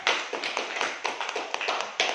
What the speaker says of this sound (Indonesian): Oke, tepuk tangan, kita kasih applause.